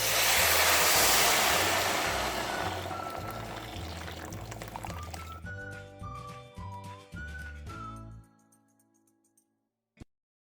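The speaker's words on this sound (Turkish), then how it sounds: "Şimdi üzerine suyumu ilave ediyorum." Water poured over sautéed ezogelin soup ingredients in a pot, starting as a loud steady rush and hiss that gradually dies away into sizzling and bubbling, close and without speech.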